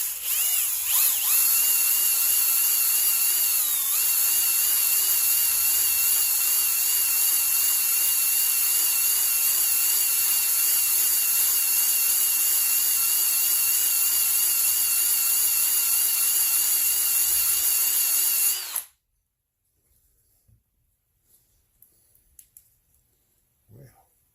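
A drill spinning a ball hone inside a Stihl 026 chainsaw cylinder, a loud, steady high-pitched whine that runs continuously for about nineteen seconds, then cuts off abruptly, leaving faint clicks and handling noises.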